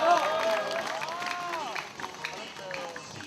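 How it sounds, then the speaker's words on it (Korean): Crowd applause and cheering at an outdoor peace rally in Gwangju Park, Korea: steady, moderately loud clapping mixed with crowd murmur, with a tonal, melodic sound running over it. "현대사연구회 위원이신 박동기님 오셨습니다. 박수 부탁드립니다."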